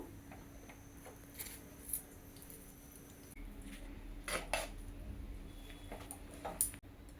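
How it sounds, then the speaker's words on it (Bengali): A metal lid is set onto a pot of mutton biryani, giving a few faint clinks and taps against a quiet kitchen background with no talk. "এখন আমি ঢাকনা লাগিয়ে দিচ্ছি, চুলার আঁচটা ছোটো করে দেবো।"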